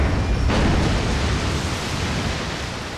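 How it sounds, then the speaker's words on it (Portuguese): A loud, dense roar of rushing water as a floodgate closes in Resident Evil 4 Remake, steady and continuous, easing slightly toward the end. "Vai fechar a comporta."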